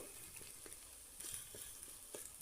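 Taro stolons frying in a pan, stirred often, make a faint, steady sizzle with soft scraping stir strokes every so often, close by and free of talk.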